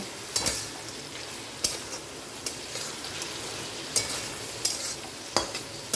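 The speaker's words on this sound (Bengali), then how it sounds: "তো চিংড়ি মাছটা দেখো আমার কিন্তু ভাজা হয়ে গেছে" Prawns fry in a pan while a spatula stirs them, with sharp scraping strokes repeating every second or so over a steady low sizzle.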